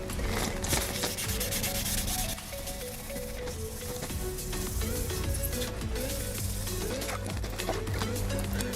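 A faded plastic BMW headlight lens is wet-sanded by hand with 1200-grit paper, giving a steady close rubbing and swishing that runs continuously through the clip with no talk.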